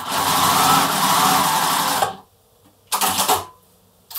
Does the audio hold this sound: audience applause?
no